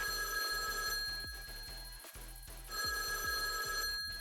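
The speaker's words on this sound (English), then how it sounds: "I hear ringing." Telephone bell ringing in steady repeated bursts, loud and close, with a constant electronic tone running underneath and no talking.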